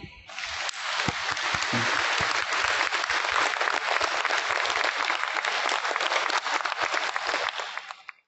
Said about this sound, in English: Please give him a warm round of applause again